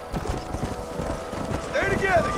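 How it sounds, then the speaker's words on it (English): Horse hooves clip-clop steadily on the ground in the video game Red Dead Redemption, a rapid rhythmic trotting with someone shouting over it and a brief whinny near the end. "You stupid horses, go! Get a move on!"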